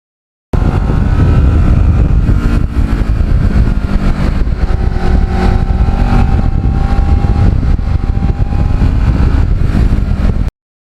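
A Kawasaki Ninja with carbon fiber parts rides along back roads, its engine droning loud and close with steady wind rush over the microphone, holding constant for about ten seconds.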